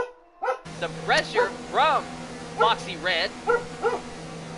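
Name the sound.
dog barking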